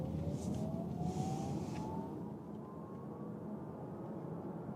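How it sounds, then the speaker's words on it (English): A VW Passat plug-in hybrid pulls out of a corner in all-electric mode: a faint rising electric whine climbs steadily over loud road and tyre rumble, easing off midway while the broadband road noise carries on. "We start here with the plug-in hybrid in the all-electric mode and also accelerate out of the corner."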